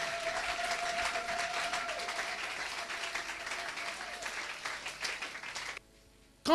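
A church congregation applauding, steady sustained clapping from many hands filling the room for several seconds before breaking off abruptly into near silence.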